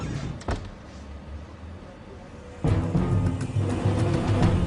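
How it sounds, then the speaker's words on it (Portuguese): An aircraft lavatory door opens inside an airliner cabin: a muffled background hum, a brief knock, then a sudden louder broadband swell of rustle and clatter that holds to the end. "Em seguida, eles ouvem o som da porta do lavatório se abrindo."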